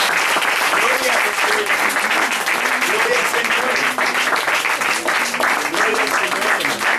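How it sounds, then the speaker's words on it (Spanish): A church congregation applauds steadily and loudly throughout, with a voice speaking over the clapping. "Denle un aplauso a Jesús."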